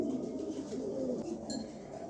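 A male pigeon from a 2022 ARPCD club line coos softly and somewhat muffled, a low continuous rolling sound under steady background noise.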